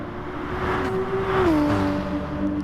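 A Gr.3 race car in Gran Turismo Sport drones through the St-Croix circuit, its engine a steady tonal whine that dips briefly as it shifts, with a faint car passing nearby.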